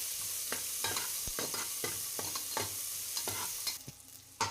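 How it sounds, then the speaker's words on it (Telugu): Onions and curry leaves frying in hot oil while being stirred for sambar, a steady close sizzle broken by repeated scraping spoon strokes, with no voices. "ఇప్పుడైతే ఆనియన్స్, కరివేపాకు వేసుకుంటాను. ఇప్పుడైతే గోల్డెన్ బ్రౌన్ కలర్ వచ్చే వరకు అయితే వేయించుకుందాం."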